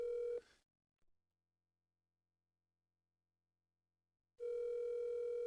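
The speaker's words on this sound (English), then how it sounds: "it's ringing a lot this time" A phone call's ringback tone sounds as a steady electronic burst, cuts to nearly four seconds of silence, then returns with another tone, close and clear with no voices.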